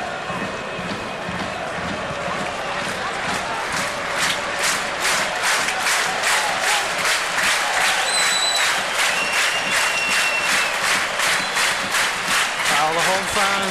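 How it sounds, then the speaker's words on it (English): Home football crowd in a stadium at Artmedia Bratislava v Celtic applauding, with a dense, sustained roar of clapping and crowd noise throughout, loud and steady with some whistles. "All the home fans applaud their team and make their feelings clear."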